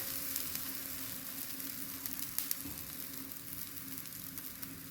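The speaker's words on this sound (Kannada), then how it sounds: "ಈ ಥರ ಎಣ್ಣೆ ಹಾಕೋದು ಸೈಡಿಂದ" Thalipeeth frying on a pan with oil poured around its sides gives a steady, faint close sizzle with small crackles, alone without talk.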